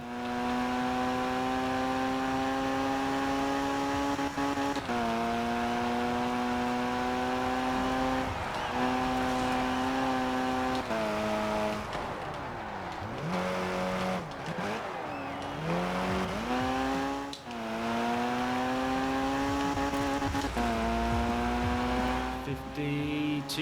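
In the racing video game K74 Rivals, a car engine revs up steadily through the gears, pitch climbing then dropping at each shift, loud and constant with a few tire squeals and lift-offs.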